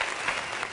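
Brief burst of audience applause at a lively French talk show, steady dense clapping heard close and moderately loud for under a second.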